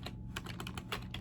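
Typing on a computer keyboard at a home workstation, a quick burst of irregular keystrokes close by with brief pauses, no talking.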